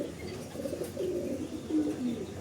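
Racing pigeons at a loft during a derby coo softly in low, rolling murmurs, a couple of brief close calls over quiet background noise.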